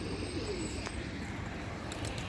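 Soft cooing of homing pigeons arriving on a rooftop after a 60 km training flight, over a steady background hum, faint and close, with a couple of small clicks.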